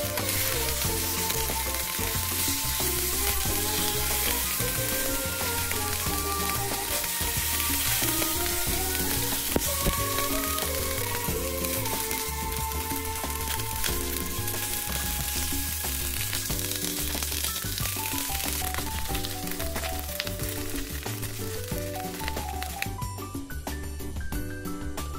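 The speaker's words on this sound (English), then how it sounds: "sear the oxtail chunks on all sides. Look at that browning!" Oxtail chunks searing in a hot pan, giving a continuous close sizzle that stays fairly faint under a steady layer of background music, with no talking.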